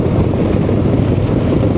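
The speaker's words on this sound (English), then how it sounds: "it's flipping windy up here" Strong wind buffets the microphone throughout a Honda motorcycle ride on an exposed moorland road near Colne and Burnley in Lancashire, a loud, steady low roar with no speech.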